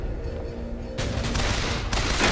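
Gunfire in the video game Bioshock Infinite, heavy dense bursts of shooting that step up sharply in loudness twice, sustained and close with no talk over it.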